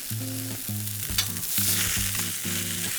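Tuna sears in a dry sauté pan with a loud, steady sizzle, joined by repeated rhythmic scraping and clinking from stirring, close up and free of speech.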